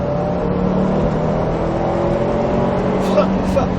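A Subaru WRX STI accelerating during a driving course, its engine drone rising steadily and loud throughout, with a voice coaching over it.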